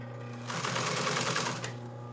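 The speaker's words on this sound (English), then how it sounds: "I'm just kind of sewing up on the boxing a little bit more" A sewing machine runs in one short burst of rapid stitching through the boxing strip of a yacht cushion, close and clear over a steady low hum.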